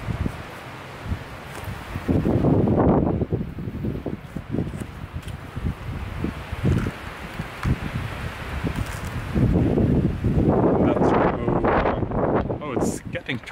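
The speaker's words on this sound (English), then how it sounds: "Kind of windy now." Wind gusts outdoors rumble steadily through the microphone, swelling louder in bursts, while a person talks over it at a vegetable-slicing setup.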